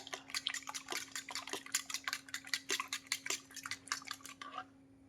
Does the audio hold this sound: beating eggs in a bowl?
yes